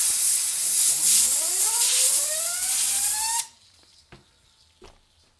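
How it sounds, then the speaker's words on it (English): Nitro Force electric contact cleaner spraying from a can onto a BilletSPIN Evolution bearing, a loud continuous hiss with a rising whir from the spinning bearing, stopping abruptly and followed by two faint clicks. "So again, it's Nitro Force electric cleaner, contact cleaner."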